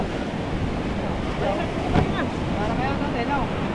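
Large sea waves roll around a small boat in a steady, loud wash of surf and wind, with no voices heard.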